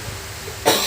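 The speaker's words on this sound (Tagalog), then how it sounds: "Ang pangit umubo." A single short, harsh cough bursts out near the end after a quiet moment, close and loud.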